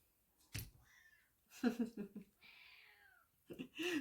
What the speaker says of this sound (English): Food seeking cat says meow.